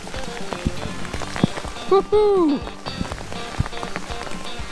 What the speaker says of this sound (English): It is absolutely chucking it down with hail.